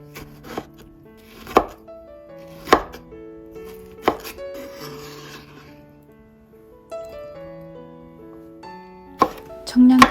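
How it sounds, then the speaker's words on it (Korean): A knife dices tomato into cubes on a cutting board, a handful of separate sharp chops spaced a second or more apart over soft background music. "토마토도 깍둑 썰기로 해서 먹기 좋은 크기로"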